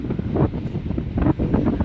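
Strong gusts of wind roar against the microphone in uneven surges, loud and close, with no voices.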